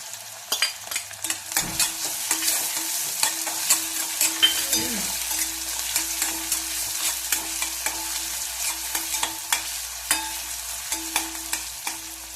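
Garlic frying together with onion and tomato in a pan, a steady close sizzle broken by frequent clinks and scrapes of stirring, with no one speaking.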